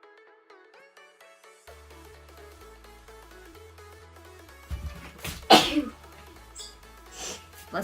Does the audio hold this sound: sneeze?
yes